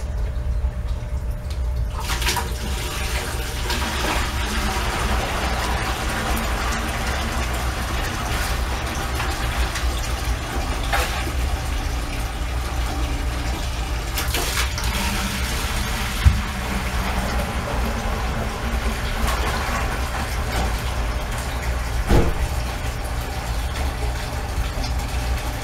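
Water runs steadily into a container outdoors while tilapia are packed for moving, a continuous hiss and gurgle lasting throughout with a low engine hum underneath and a couple of faint knocks.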